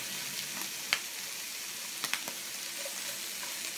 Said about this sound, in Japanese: それでサッサッサッと炒めます